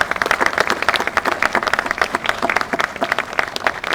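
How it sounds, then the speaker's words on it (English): A live audience applauds hospital staff at a groundbreaking for the pediatric emergency center at USA Health Children's & Women's Hospital: dense, sustained clapping from many hands at close to middle distance, steady for the whole stretch. "Could I ask that we give a round of applause to our staff?"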